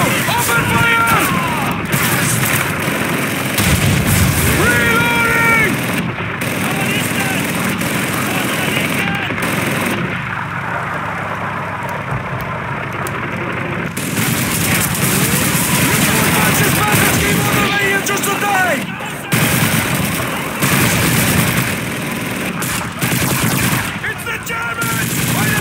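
Continuous Call of Duty 2 battle on PC, a downtown World War II assault, with heavy rifle and machine-gun fire, bursts and explosions filling the scene while soldiers shout commands over the loud, dense combat.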